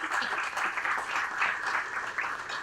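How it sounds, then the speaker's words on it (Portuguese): An audience applauding in a hall, steady clapping for a few seconds at moderate volume. "Salva de palmas ao Robert Wong."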